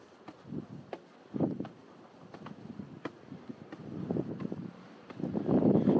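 Strong wind buffeting at a coastal lighthouse on Cape Shiriya, Aomori, arriving as irregular gusts and rumbling microphone bursts that swell loudest near the end.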